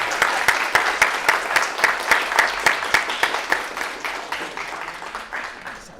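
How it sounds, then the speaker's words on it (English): Steady applause from a small conference audience, many hands clapping rhythmically for several seconds, fairly close and without talk. "All right, clap it up"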